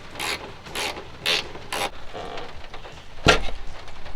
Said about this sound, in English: Take our 12mm ratcheting wrench.